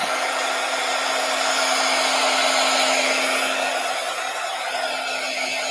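A hair dryer blows steadily at close range with a constant whir and a fixed hum, running alone without a break for the whole stretch.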